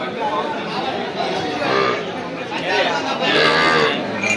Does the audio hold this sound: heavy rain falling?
no